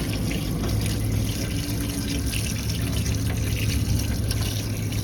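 A tap runs steadily while items are washed, giving a continuous close rush of water with no pauses.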